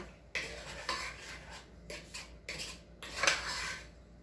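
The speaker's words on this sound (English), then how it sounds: "Y'all can see I'm just stirring it right now with that sugar and that cornstarch." Raspberries with sugar and cornstarch are stirred in a pot for a chocolate raspberry pie, with soft, separate scraping strokes of a utensil against the pot, fairly quiet and close, without speech.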